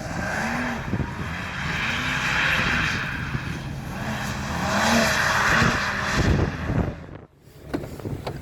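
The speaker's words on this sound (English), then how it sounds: "that's very nice sound of a 135." A BMW 135 being drifted roars with rising and falling engine revs and tyre noise, loud and close for several seconds before cutting off sharply, then briefer bursts follow.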